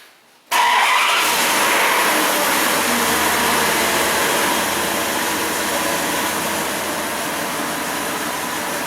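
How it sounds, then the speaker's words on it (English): A Dodge Ram 1500 truck engine cranks and catches abruptly after a brief quiet moment, then runs loud and close with a rough, uneven misfiring idle that holds steady for several seconds. "I can hear the truck misfiring, I can see it in the exhaust tube."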